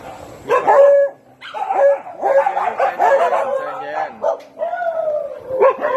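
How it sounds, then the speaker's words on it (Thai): Dogs in a kennel pen bark, yip and whimper in a busy overlapping chorus, close and fairly loud, with brief gaps between bursts. "ทีนี้จะให้ดูสุนัขที่อยู่ ในคอกนะครับ"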